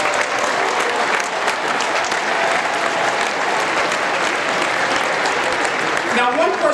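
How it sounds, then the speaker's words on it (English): Large audience at the FRC robotics World Championship opening ceremonies applauding in a big arena, a loud, sustained roar of clapping with crowd noise and no break. "Give yourselves a round of applause."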